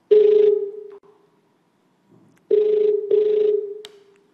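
A telephone rings in bursts during a live TV game show call, each burst a loud, tonal electronic trill, with two rings in close succession after a pause.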